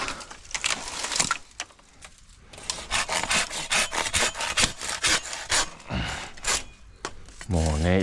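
A hand saw cuts through a fallen cedar log in an overgrown, abandoned mountain path, giving steady rasping back-and-forth strokes, close and fairly loud, with a short pause partway through.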